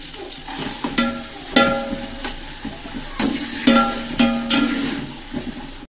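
Hot oil sizzling in a pan, a steady hiss broken by repeated bursts of louder crackling and spitting, close and prominent with no talk.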